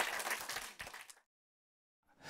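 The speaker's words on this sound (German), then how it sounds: "Bitte nochmal großen Applaus" A theater audience applauds a film director on stage with dense, loud clapping that fades out abruptly, then after a short silence starts up again.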